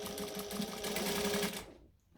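A sewing machine runs a seam on a McCall's M6442 jacket, a quick continuous whirring stitch that cuts off abruptly near the end.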